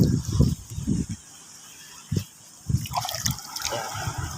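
Seawater poured over a medallion in short bursts, trickling and splashing with quiet gaps between pours; the sound is close and moderately loud.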